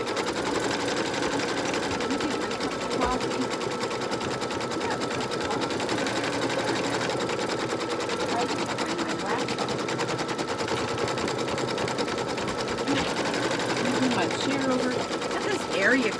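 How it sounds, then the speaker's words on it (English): An embroidery machine stitches out a honeycomb design for a placemat, a rapid, steady mechanical rattle of needle strokes that runs continuously at close range. "It's going to stitch out the honeycomb."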